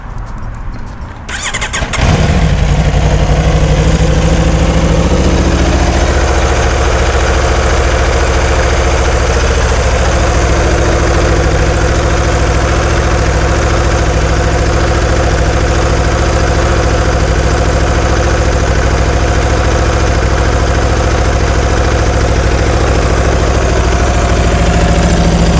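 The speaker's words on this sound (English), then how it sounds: "I'll show you once we start the motorcycle." A 2019 Aprilia RSV4 1100 Factory motorcycle cranks and fires up after a brief quiet moment, then settles into a loud, steady, rumbling idle that continues up close for over twenty seconds.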